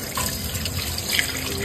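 Tap water runs steadily into a sink while salted boal fish are rinsed, giving a continuous close splashing gush with small splatters and no talking.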